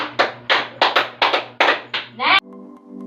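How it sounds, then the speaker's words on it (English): A classroom of students gives a rhythmic series of about five group claps in quick succession, near and loud, ending with a brief tonal ring. "Okay, 5 claps for July."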